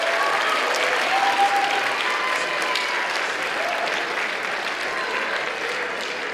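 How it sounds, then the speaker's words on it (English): A high school audience applauds at an event with a state governor, a broad, sustained wash of clapping that holds at a steady level throughout. "let's give them a round of applause"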